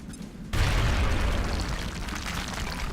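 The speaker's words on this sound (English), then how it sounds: "Throwing grenade." A grenade explodes in the turn-based strategy game XCOM Long War, a sudden loud blast after a quiet half-second, followed by a sustained rumbling, crackling roar of debris.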